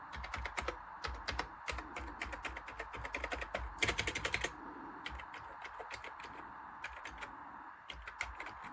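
Rapid, continuous key presses on a Sinclair Spectrum+ home computer keyboard with a broken membrane, dense clattering taps over a steady background hum, with one brief louder burst midway.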